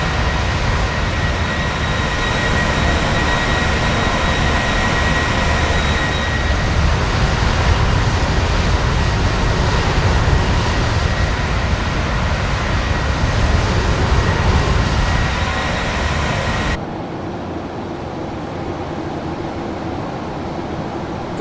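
A PMDG 737 airliner cruises in a flight simulator game with the default sound set, giving a steady, loud, unbroken roar of engine and wind noise that drops slightly in level near the end.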